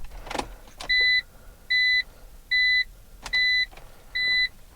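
A BMW Z4 E85 fails to start: a few sharp clicks from the car, then a regular series of five electronic warning beeps, close and clear, with no engine catching.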